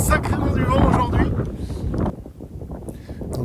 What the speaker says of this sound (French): C'est quand même sacrément du vent aujourd'hui.